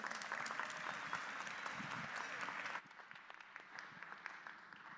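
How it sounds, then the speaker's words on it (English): An audience at an evening fireside-chat event applauds LaToya and the guests on stage, full and steady clapping that drops abruptly partway through to a quieter scatter of claps, with faint voices beneath. "So one more time, round of applause for LaToya and these guests up here."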